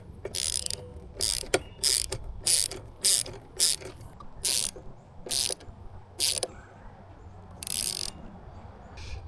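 A ratchet tightens the windshield bracket bolts for an XL windshield on a Harley-Davidson Pan America motorcycle, giving about ten close, rhythmic bursts of rapid clicking separated by short pauses.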